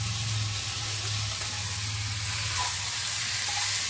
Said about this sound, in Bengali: একটু নাড়াচাড়া করলাম